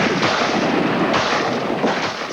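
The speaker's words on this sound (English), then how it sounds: "Semi-automatic assault weapons." Semi-automatic assault weapon fire as a dense, continuous burst of loud shots close by, with no voices over it.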